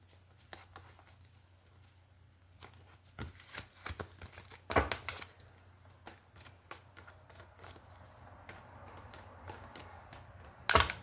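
Tarot cards riffled and shuffled repeatedly in short bursts, crisp flicking and snapping close by, with soft handling noises between and no talking.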